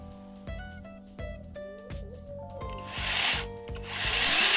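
A small cordless brushless 8-inch chainsaw runs with a rhythmic pulsing buzz, then bites into wood with a loud, rough, grinding roar building toward the end.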